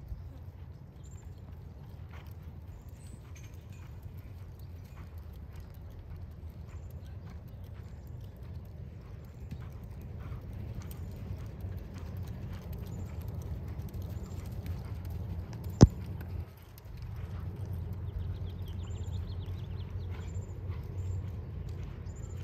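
A horse loping around an arena in a ranch pleasure class, with a steady, soft rhythmic hoof patter over a low background rumble; one sharp click cuts through briefly.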